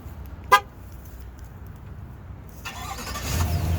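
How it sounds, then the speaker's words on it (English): A 2021 GMC Yukon XL chirps once as its key fob remote start triggers, then a couple of seconds later the engine cranks and settles into a low idle nearby. "That right there was the auto start feature you can find on the key fob."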